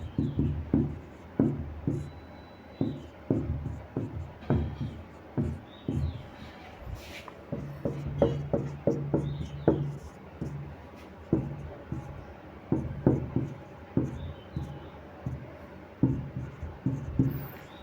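Chalk or marker scratching across a classroom board in quick strokes and taps, a steady rhythm of short dry scrapes close by, with bits of speech in the room.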